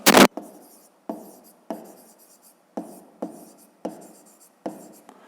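Pen writing math in a notebook, a sharp tap followed by a series of short scratchy strokes spaced about every half second, close and clear with no talk.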